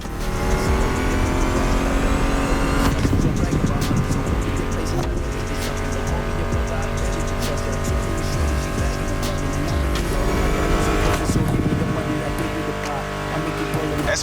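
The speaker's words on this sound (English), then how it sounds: "Meshes well with the sound of the engines, you feel me?" Loud racing car engines in the video game The Crew Motorfest roar and rev continuously, blended with steady background music, with occasional sharper bursts of acceleration.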